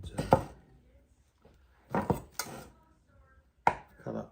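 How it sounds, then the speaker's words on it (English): Knife cutting butter on a board for a cheesecake base, a few sharp separate chops spaced irregularly, close and fairly quiet, alone. "cut up some of the butter"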